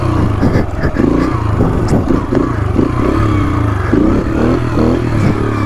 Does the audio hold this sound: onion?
no